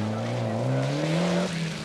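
Johnny Milner's Shell scholarship rally car, number 30, on a live stage of the 1993 Network Q RAC Rally, engine loud and close, revs climbing steadily for a sustained pull and then easing off near the end, with no voices.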